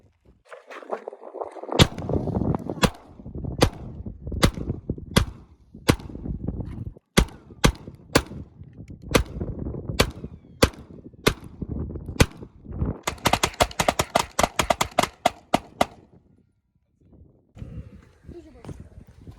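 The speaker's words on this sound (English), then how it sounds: "Hope you guys like blowing up the Tannerite" Tannerite targets going off when shot outdoors, with many sharp gunshot cracks and blasts in irregular bursts, including a rapid cluster near the end, over people talking in the background.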